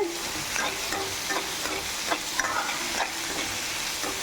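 Tomatoes sautéing in a pan, a continuous close hiss of frying with intermittent spatula scrapes and taps at a loose, irregular pace.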